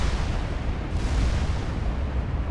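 Battleship gunfire in Ultimate Admiral Dreadnoughts, a dense, continuous rumble of heavy booms blending into one loud roar with no talking.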